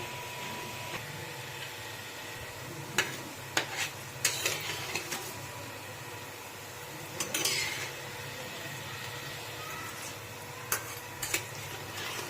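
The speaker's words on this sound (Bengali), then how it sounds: "ভেজিটেবিলগুলো কিন্তু আস্তে আস্তে কম আঁচে ভালো করে ভাজতে হবে" Vegetable chops frying slowly in oil over low heat, a soft steady sizzle close by with occasional sharp clinks of utensils against the pan, fairly quiet and without speech.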